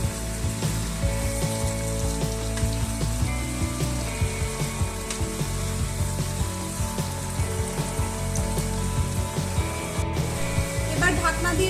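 Eggplant frying in a pan for a traditional Bengali shukto, a steady close sizzle with occasional stirring clatters and scrapes, and a voice talking briefly over it.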